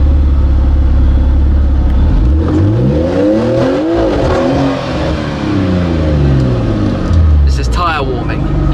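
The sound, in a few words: supercar warming its tyres at Goodwood hill climb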